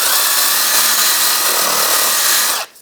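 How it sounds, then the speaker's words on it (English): A wire brush scrubbing the metal frame of a 2005-15 Nissan Xterra, producing a loud, steady, harsh rasping that runs continuously and then cuts off abruptly at the end. "I'm going to clean this up with a wire brush."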